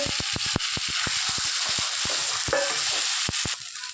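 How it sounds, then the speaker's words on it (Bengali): Mashed boiled potato sautéed with hing (asafoetida) in a hot pan: a steady oily sizzle runs throughout, punctuated by a quick, uneven rhythm of sharp spatula knocks and scrapes against the pan, close and fairly loud. "আলু সিদ্ধ আলুটা ম্যাশ করে নিয়েছি সেটা দিয়ে দিচ্ছি, কষিয়ে নেবো।"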